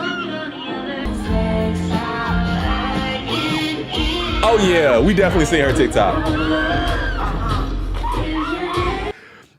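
Concert crowd at a show screaming, whooping and cheering loudly and continuously throughout, with a person talking close by over the roar.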